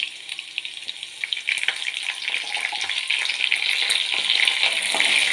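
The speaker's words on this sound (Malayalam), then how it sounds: "പച്ചമുളകും വെളുത്തുള്ളിയും ഇഞ്ചിയും കൂടെ ചെറുതായിട്ടൊന്ന് മൂത്ത് വരുന്നുണ്ട്" Green chillies, garlic and ginger fry in oil in a pan with a steady, bright sizzle that builds slightly louder over a few seconds, close up and without talk.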